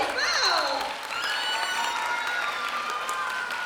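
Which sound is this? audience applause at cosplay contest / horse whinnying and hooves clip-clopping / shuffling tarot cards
audience applause at cosplay contest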